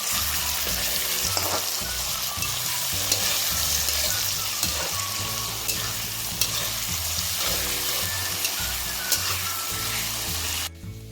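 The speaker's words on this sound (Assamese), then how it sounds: "পিঁয়াজখিনি অকণমান দেৰি ভজাৰ পাছতে মই বিলাহী দুটা কাটি লৈছিলোঁ, সেইকেইটাও দি লৈছোঁ।" Onions and tomatoes sizzle steadily in a pan, a continuous close frying hiss with faint stirring clatter running throughout and cutting off abruptly at the end.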